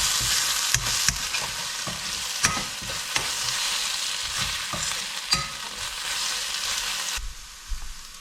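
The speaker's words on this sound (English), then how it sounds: "Mix well and saute just for few minutes until the raw smell goes" Ginger garlic paste sautés in a hot pan for a shrimp and okra curry: a continuous loud sizzle, with regular scraping and tapping as a utensil stirs it, close and alone.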